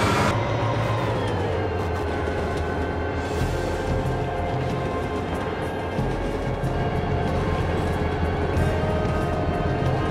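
A train rumbles along steadily in the BeamNG Drive driving game, a dense continuous low roar with sustained tonal hum, loud and unbroken throughout with no talking.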